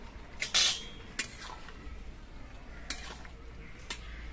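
A lid lifted off a pot of simmering bottle gourd, giving a sharp metallic clink and scrape, followed by a few fainter clatters of utensils in a quiet kitchen.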